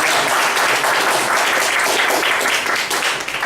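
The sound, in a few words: audience applause after an evaluation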